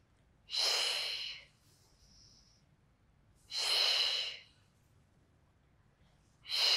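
Heavy breaths during a Pilates neck and posture exercise come close and clear in two long, even puffs, with a third beginning at the end and quiet pauses between them.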